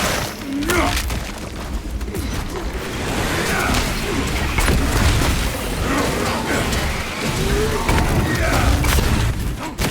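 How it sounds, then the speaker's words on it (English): A frag grenade goes off in Warhammer 40k Space Marine 2, a booming burst with shattering debris amid dense ongoing combat noise, gunfire and game effects, loud throughout. "Throwing frag grenade."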